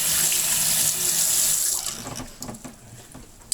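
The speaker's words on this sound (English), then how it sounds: "Run some hot water. Clean it all off." Hot water runs from a tap onto gas mask parts, a loud steady hiss and splash that cuts off partway, leaving a few drips and small knocks.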